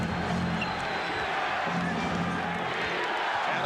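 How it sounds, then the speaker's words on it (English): Forum crowd roaring at a Lakers–Bulls NBA Finals basketball game, a dense, steady wall of cheering and noise throughout, with a commentator's voice faintly under it. "the Forum crowd, they have been into it in terms of decibel level during the playoffs"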